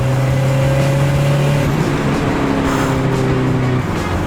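A turbocharged Acura RSX pulls hard from inside the cabin, its engine note climbing in steady tones with road and wind roar, loud and close, the pitch shifting partway through as gears change.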